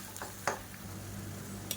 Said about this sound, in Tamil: சேர்த்துட்டு ஒரு 2 நிமிஷம் வதக்கி விட்டுக்கலாம்